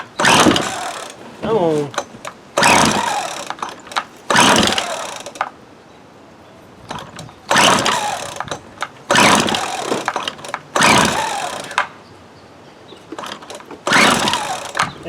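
Old 1996 Craftsman string trimmer with carburetor trouble being pull-started, bursts of rough mechanical cranking and sputtering repeating in short loud blocks with pauses between, a voice briefly heard.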